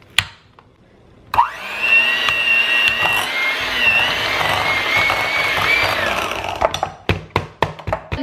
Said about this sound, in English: what I'm going to do is use a hand mixer to blend these together